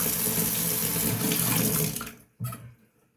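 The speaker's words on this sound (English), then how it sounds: "Get them separated, wash your adapter, wash your blade." A safety razor adapter and blade are rinsed under a running bathroom tap, a steady loud stream of water that cuts off, then one short final splash.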